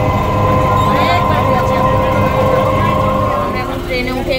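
Passenger train on a suburban run from Dum Dum toward Hooghly, heard from inside a carriage: a loud, steady rumble and rattle of the moving coach with a sustained tonal whine, continuous for several seconds.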